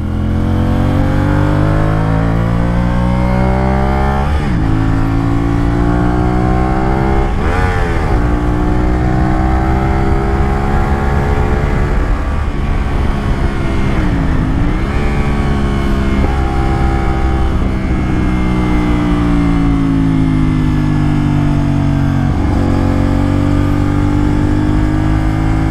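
A CFMOTO 450SR sportbike engine pulls hard while being ridden, its loud, close drone climbing in pitch through repeated gear changes with brief dips between shifts.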